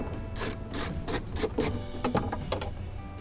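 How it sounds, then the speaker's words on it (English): A ratchet wrench with a 10 mm socket clicks in repeated bursts while breaking bolts loose on a Chevy Cruze door during window regulator and motor replacement, close and clear with no talk. "Break those bolts free, but not take them all the way out."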